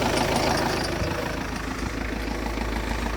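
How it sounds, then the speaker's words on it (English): A Vauxhall Zafira 1.9 CDTI diesel idles close up with a steady, dense clatter and a faint metallic rattle from a loose bracket, even and continuous for a few seconds. "The engine sounds good, but there is like a metal sound"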